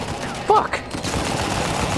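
Gunfire in the Uncharted 4 video game, a brief burst of shots under in-game background noise, with a short sharp impact near the middle of the clip.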